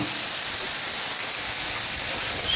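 Mushrooms and potatoes sizzle on a Blackstone 17-inch propane griddle, a steady broad hiss that holds at an even level throughout with no talking.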